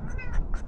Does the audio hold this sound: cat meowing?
yes